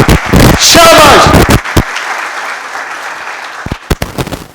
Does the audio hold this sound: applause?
yes